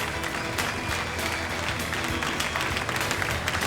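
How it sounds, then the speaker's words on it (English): A crowd gives a standing ovation at a bass fishing tournament championship weigh-in in Mobile, Alabama: dense, loud clapping with some cheering, continuous throughout. "A standing ovation from a crowd"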